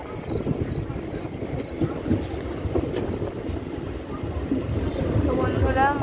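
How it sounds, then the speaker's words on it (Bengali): A train pulling into a station, with a steady low rumble and rolling rail noise throughout, some squealing toward the end, and people talking nearby over it. "মালিয়ায় ঢুকে গেছে ট্রেন"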